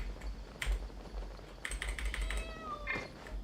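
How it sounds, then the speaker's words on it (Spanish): A cartoonish cat meows in Genshin Impact, a few short mewing calls with brief clicks and chimes around them, fairly close and alone with no talk. "Gato de mierda"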